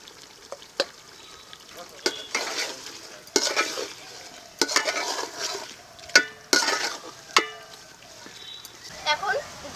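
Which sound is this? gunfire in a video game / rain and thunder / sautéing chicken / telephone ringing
sautéing chicken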